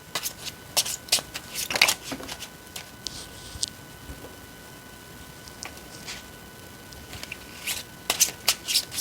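Tarot cards shuffled by hand in quick papery bursts, close and crisp, arriving in irregular clusters with short quiet gaps between them.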